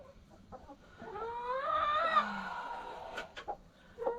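A broody hen clucks and squawks inside a chicken coop, one drawn-out, rising call with a few short clucks around it, close and clear with no talk.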